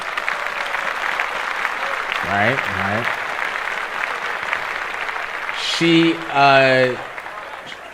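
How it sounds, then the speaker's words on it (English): Applause track plays behind podcast talk, a steady hiss of clapping running the whole time while someone speaks a few short words over it, louder near the end. "Clap that up."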